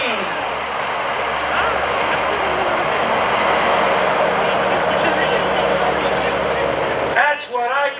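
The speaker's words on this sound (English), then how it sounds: "She's out there on the horsepower Super Stearman." Super Stearman biplane at an airshow with a wingwalking act, its radial engine droning loud and steady as it passes, while an announcer talks over it and the roar fades at the end.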